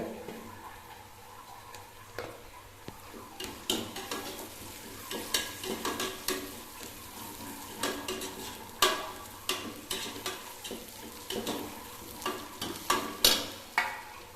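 Whole spices (star anise, cinnamon, bay leaf, fennel seeds and cloves) frying in oil for a millet egg biryani, giving a steady sizzle broken by repeated clicks and scrapes of stirring, close and with no talk.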